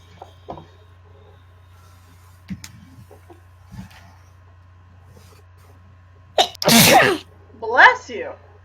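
A single sharp sneeze bursts out loudly after some quiet shuffling and clicks, followed by a short voiced sound.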